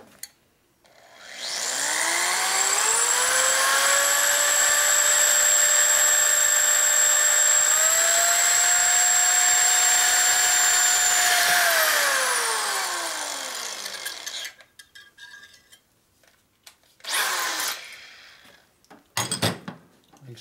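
Drill boring through a 1942 Harley-Davidson WLA/WLC 45ci transmission part, a loud steady whine with rising pitch that runs for about twelve seconds and then winds down, followed by a few short scraping bursts.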